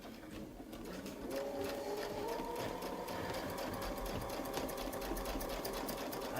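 An embroidery sewing machine stitches a wreath design in a steady, rapid mechanical whir with fine rhythmic needle clatter, close and continuous throughout with no talking.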